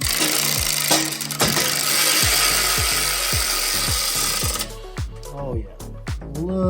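A power tool whirs steadily for several seconds while tightening long tube header bolts on a 1972 C10 LS swap, then stops and gives way to sharp metallic clicks and short ratcheting bursts nearby.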